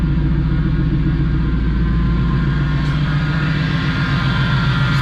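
2000 Ford SVT Lightning pickup truck engine idling after its first start-up, a steady, close, low throbbing rumble with no talking.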